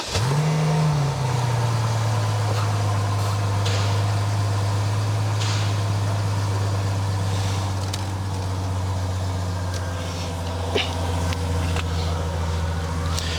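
A BMW V12 engine cranks and fires up, briefly flaring before settling into a steady, deep idle that runs on, close and clear.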